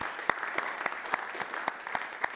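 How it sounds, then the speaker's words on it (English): Clapping from a crowd at an animal shelter event, moderately quiet with a few distinct loud claps cutting through the steady patter. "So we'll round of applause again."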